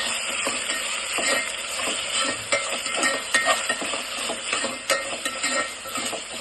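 Ginger garlic paste stirred into sautéed onions in a pan for coconut milk rice: steady sizzling under repeated scraping and clinking of a spoon against the pan, close and fairly loud, with no talking.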